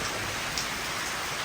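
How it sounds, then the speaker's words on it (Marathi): Rain pours in a dense, even wash of noise, close and continuous from start to finish with no breaks and no voices. "चांगला पाऊस आलाय ना."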